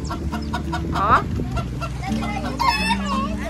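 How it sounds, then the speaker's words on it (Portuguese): Chickens cluck and a rooster crows on a rural farm, close and loud, with overlapping calls and someone speaking briefly among them. "Tem galinha."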